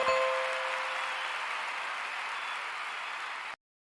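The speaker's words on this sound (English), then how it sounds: "Clap, clap, clap." An audience claps together in a room during an office-hours session, a steady wash of applause that fades a little before cutting off abruptly.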